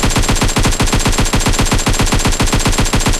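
Sustained rapid automatic gunfire in PUBG Mobile, a loud, close, unbroken burst of evenly spaced shots rattling on for several seconds.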